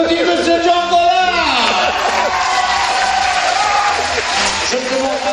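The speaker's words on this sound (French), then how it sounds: "On peut applaudir M. Chocolat." An audience at a school open-day games event applauds and cheers for a performer, a dense, steady wash of clapping and crowd noise with a voice speaking over it throughout.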